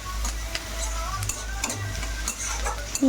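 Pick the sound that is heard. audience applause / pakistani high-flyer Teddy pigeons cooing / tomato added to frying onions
tomato added to frying onions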